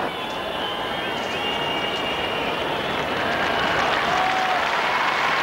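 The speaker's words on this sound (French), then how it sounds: "Et le public l'applaudit." Stadium crowd at a 2003 athletics world championships applauding sprinter Jon Drummond as he leaves, a steady, dense wash of clapping and crowd noise throughout, with faint voices mixed in.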